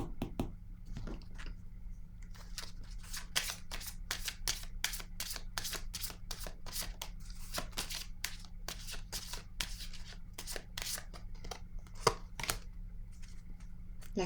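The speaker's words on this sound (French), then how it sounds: "Je vais déposer une carte." Tarot cards handled on a table, a long run of quick, crisp, close papery flicks and taps as a card is laid down, with no one speaking.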